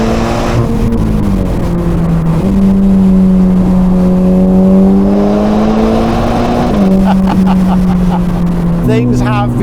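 A 2022 Ferrari Portofino M's turbocharged engine pulls hard in steady, rising tones, with gear changes breaking the drone into stepped pitches. Music plays underneath throughout.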